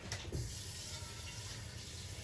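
Tap water runs steadily into a kitchen sink after cooking an omelette, a continuous soft rushing stream at moderate distance with a brief clunk near the start and no talking.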